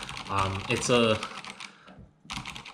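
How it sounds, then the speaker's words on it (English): Typing on a Kinesis Advantage2 ergonomic keyboard, with someone talking over a run of close keystrokes, then a short pause before the clicking resumes. "normally on a keyboard, you're actually supposed to type like this"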